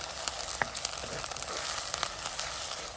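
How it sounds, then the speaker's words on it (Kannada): Ginger garlic paste fries in a pan with a faint, quiet sizzle dotted with small pops and crackles, heard alone at low volume. "ಇದರ ಹಸಿ ವಾಸನೆ ಎಲ್ಲ ಹೋಗಬೇಕು ಅಷ್ಟೇ ತನಕ ಇದನ್ನು ಫ್ರೈ ಮಾಡ್ಕೊಳ್ಳಿ"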